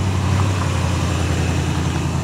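A Pontiac GTO convertible with a 389 V8 rumbles steadily up close, its deep, bubbling exhaust note holding constant for a couple of seconds with no talk over it.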